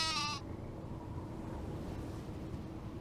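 A sheep in a Nancy Drew video game lets out one short, close, wavering bleat, which then gives way to a low steady background ambience with no talking.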